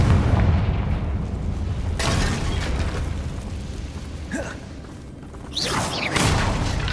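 Confringo blasting spells explode in the Hogwarts Legacy video game, several loud booming bursts with whooshing tails over a dense rumbling background, without speech.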